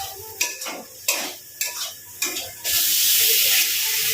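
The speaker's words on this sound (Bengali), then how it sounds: "তো মশলাটাকে ভালো করে কষে দিলাম।" Spice paste for a Bengali katla fish curry stirred in a pan, a spatula scraping in four sharp strokes, then a steady loud sizzle near at hand.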